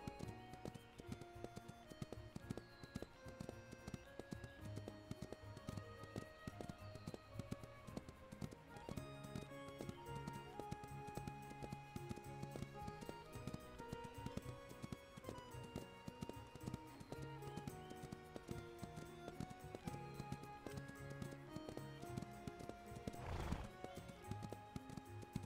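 Horse cantering in The Ranch of Rivershine video game, steady hoofbeat clip-clop under continuous game music, with a brief whinny near the end.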